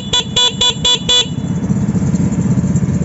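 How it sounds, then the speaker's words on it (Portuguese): A horn on a special-edition moped gives five short, evenly spaced honks up close, then the bike's engine carries on as a steady rumbling drone. "e buzina, a buzina aqui em cima"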